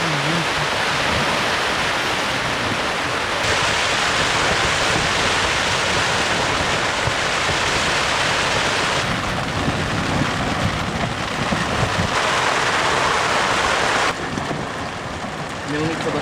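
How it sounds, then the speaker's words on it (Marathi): Heavy rain pours steadily around a campsite tent during a fishing and camping trip, a dense continuous wash of noise filling the whole clip, with muffled voices and occasional rustling beneath it. "हा आता पाऊस सुरू झालाय"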